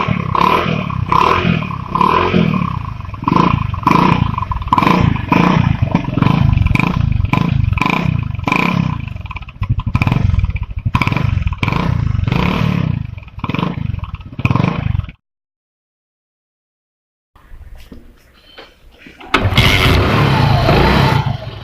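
A modified motorcycle's exhaust revving loudly and close, with rapid throttle blips and a rough, roaring pulse, then a brief silence before the engine roars again.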